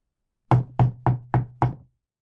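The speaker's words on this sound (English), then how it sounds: "A knocking on the door interrupted further interchanges on the peculiarities of royalty." Five firm, evenly spaced knocks on a door panel, close and loud, each with a short hollow wooden thud, followed by silence.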